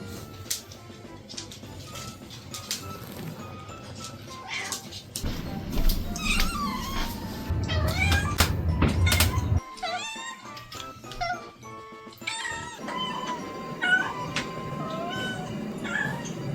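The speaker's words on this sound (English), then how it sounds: "my family adopted a little gray kitten before part 1 came out" A little gray kitten meowing repeatedly, high thin mews in irregular bursts over a busy background of other animal noises, close and clear.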